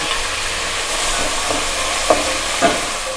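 Chopped fenugreek leaves fry and get stirred in a hot pan for a spring onion and sprouts dish, giving a steady close sizzle with a few soft scraping strokes and no voices.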